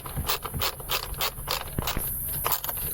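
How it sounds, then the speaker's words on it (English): A ratchet wrench spins freely on a bolt while someone works on a 2016 Ford F-150 with a misfire, giving a quick run of close, repeated clicks and scrapes with no talking. "Ratchet keeps spinning on."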